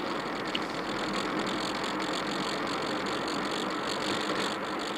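Car engine running slowly in fourth gear while driving, a steady broadband hum of engine and road noise inside the cabin, continuous and even throughout.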